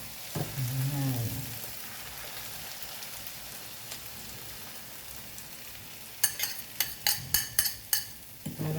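Vegetables and egg sautéing in a home kitchen pan, a steady close sizzle throughout, with a low voice briefly at the start and a run of sharp utensil scrapes and taps near the end.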